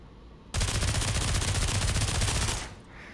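An SMG in Pavlov VR empties a full magazine in one sustained burst of rapid, loud gunfire lasting about two seconds, then cuts off into quiet.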